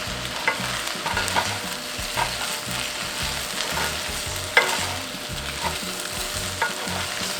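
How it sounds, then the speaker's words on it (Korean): Chicken breast, potato and rice stir-frying in a pan, a steady sizzle broken by regular scraping strokes of a spatula, close and moderately loud with no voices. "이렇게 노릇하게 맛있어 볼 때까지 볶아주시고 끄면 됩니다"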